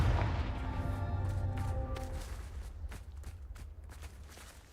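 The Confringo blasting spell in the video game Hogwarts Legacy: a deep, booming burst that opens loudly, then rumbles and slowly decays over several seconds with faint ringing tones and scattered crackles.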